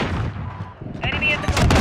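Gunfire from an MP5 in the Killhouse map of a shooter game, a quick burst of sharp cracks followed by more rapid shots, close and loud, mixed with a voice.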